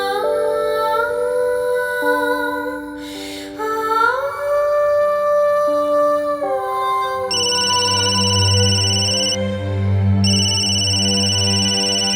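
A loud electronic phone ringtone plays a repeating melodic tune, steady and uninterrupted for the whole stretch, with no voices.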